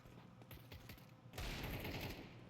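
Desert Eagle pistol shots ring out in a shooter video game, a rapid cluster of sharp cracks followed by a louder, denser burst of gunfire, with no talking.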